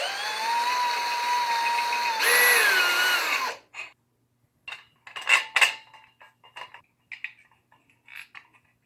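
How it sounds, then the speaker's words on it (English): A power drill bores out the end of a baby stroller wheel rim. It whines steadily and rises in pitch for about three seconds, then stops, followed by scattered metallic clinks and taps of handling parts. "I'm going to need to drill out the end of here so that the rim can go in it and allow it to spin"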